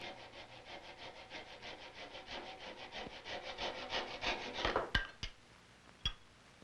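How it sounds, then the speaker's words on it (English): A sharp chisel pares hard maple end grain on a colonial-style gunstock, making a run of quick, rhythmic rasping strokes that build in loudness before ending with a few sharp knocks. "Keeping the chisel very sharp is important while cutting hard maple on the end grain."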